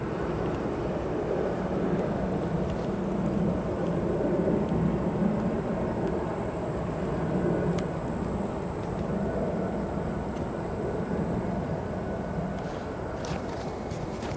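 A Kalitta Air cargo jet taxis toward runway 9 at O'Hare, a steady broad engine rumble and whine with a high sustained tone, distant and continuous with faint clanks near the end.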